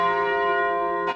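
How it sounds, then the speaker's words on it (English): A church bell tolls with one long, ringing stroke whose rich overtones hang and slowly decay, followed by a brief soft noise at the end. "Churches tolled their bells 29 times, once for each soul on board."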